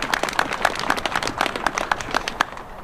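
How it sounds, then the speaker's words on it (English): Applause from an audience at a city news event about a downtown railyard purchase, heard as scattered, uneven hand claps of moderate loudness, fading slightly toward the end. "Let's give them a hand of applause."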